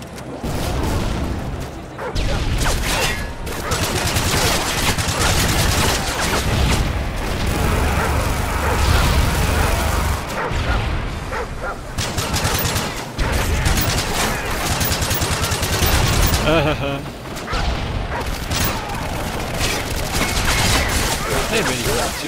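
Rapid gunfire from Call of Duty MW3 rattles almost nonstop in loud, dense bursts with booms and mechanical clatter, briefly easing in a few gaps.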